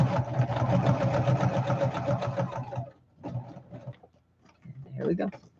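Sewing machine stitching pages of a handmade yellow junk journal, running steadily and loud for about three seconds, then stopping, followed by quieter handling noises and brief short whirs.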